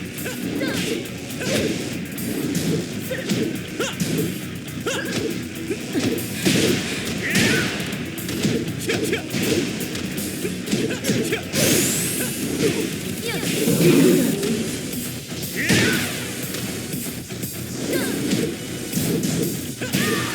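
Hits and impacts from a Tekken 7 arcade battle on Ultra Hard with Hwoarang, a steady stream of thuds, whacks and swishes under game music and announcer voice throughout the round.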